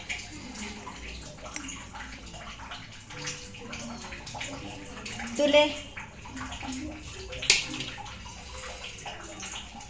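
Water is poured into green garlic chutney during a Tulu home-cooking session, heard as a short splashy gush under conversational talk, with a second brief burst shortly after.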